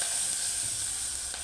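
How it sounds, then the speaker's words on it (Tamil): Mustard seeds, cinnamon and chilli crackling and sizzling in hot oil while tempering for sambar, a steady bright frying hiss with faint scattered pops, close and alone. "கடுகு அவ்வளோ சாலாக வெடிக்குது."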